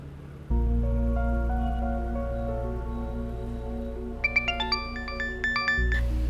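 A phone ringtone for an incoming call: a sustained electronic tone begins, then a brighter melodic run of chiming notes follows, loud and close with no talking.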